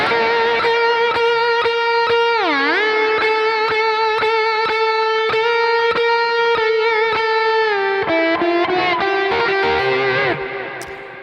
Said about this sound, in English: I add a lot of reverb and delay. Very roomy. And then my favorite, a bit of fuzz on top of that distortion